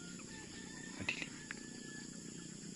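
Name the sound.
crickets chirping at dusk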